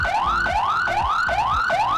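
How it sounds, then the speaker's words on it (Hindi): An ambulance siren wails in a fast, repeating rising sweep, about five cycles in two seconds, loud and close, with low thumps and rumble beneath as the vehicle bumps along a potholed road. "ये एम्बुलेंस कितनी अजियत से और ये अजियत के साथ ये गड्ढों में जाएगी"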